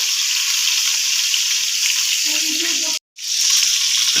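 Steady, loud sizzle of stuffed pointed gourds frying in oil, a brief clatter of turning, then a sudden short silence before the crackling resumes.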